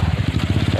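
Close, loud rhythmic putter of a motorcycle engine struggling on a muddy, rain-soaked road in Liwa, West Lampung, a brief burst of steady firing pulses.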